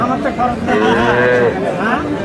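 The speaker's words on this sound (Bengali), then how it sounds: "ফ্রিজিয়ানের ষাঁড় বাচ্চা।" A Friesian bull calf at a cattle market moos once in a long, loud, close call that rises and falls, with faint market noise behind it.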